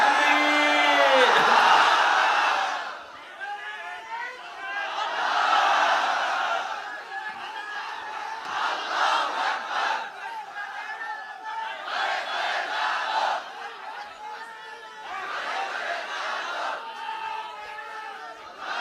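A large crowd at an outdoor Islamic Quran tafsir gathering roars back in unison to a takbir call, several loud waves of massed chanting and shouting rising and falling over about twenty seconds.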